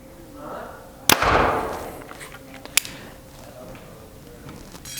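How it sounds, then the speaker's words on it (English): A Hoyt RX8 compound bow releases a single sharp, loud shot with a brief rushing whoosh, followed by a second fainter crack as the arrow hits about a second and a half later. "This bow has got to be shooting quite a bit faster. It does feel a little bit more aggressive on the aftershock."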